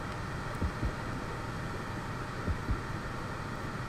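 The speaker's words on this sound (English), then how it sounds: "I hear my heart beating." Muffled heartbeat in the underwater video game Depth, two soft low double thumps repeating under a constant deep ambient hum of ocean and wind-like drone.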